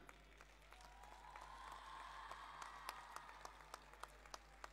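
Scattered applause at an award ceremony, a thin spread of claps from a crowd with a few sharper individual claps standing out over a steady low hum.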